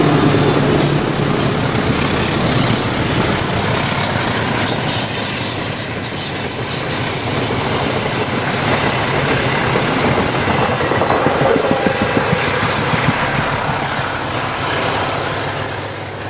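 A CC206 locomotive hauls a train along winding, hilly track in Indonesia, a loud sustained rumble of wheels and carriages with high squealing and rhythmic clatter throughout.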